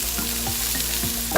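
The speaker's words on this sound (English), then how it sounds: "My onions are sauteing." Onions sautéing in a pan on the stove for a fried salmon and saffron rice meal, giving a steady, loud sizzle and frying hiss with faint stirring scrapes, and no talk.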